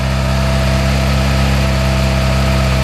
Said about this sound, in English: just while we're letting the engine warm up a bit